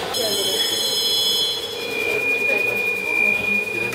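A metro train in Istanbul runs steadily with a continuous rumble, while high, whining tones from the wheels or motor rise and then settle into one long steady whine.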